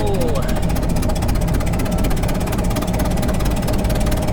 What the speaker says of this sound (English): Now this one's a bit noisier than most because we have a slight exhaust leak